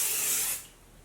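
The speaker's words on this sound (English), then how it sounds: "Let's start out applying this primer. I'm going to give it a good little spray." A brief airbrush spray of makeup primer from a Jeunesse NV airbrush hisses steadily for about half a second, then cuts off, leaving a faint quiet hiss, close by.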